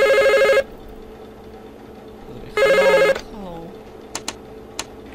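Telephone ringing in the horror video game Five Nights at Krusty Krab: two loud electronic ring bursts, each about half a second, separated by a pause, followed by faint clicks and a brief tonal sweep.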